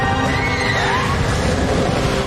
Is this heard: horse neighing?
yes